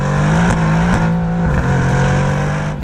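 Mercedes-AMG GT R engine snarling while driving, a loud sustained growl held close with a slight rise and dip in pitch as the throttle shifts, brief crackles along the way.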